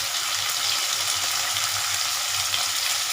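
Chopped bitter gourd frying in a pan with sautéed onion and tomato makes a steady, close, even sizzle throughout, with no talk.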